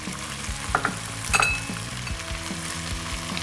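Chilli powder and paprika being stirred through a sizzling pan for a Texan-style chilli, steady close frying hiss with a few scraping spoon clinks and no talking.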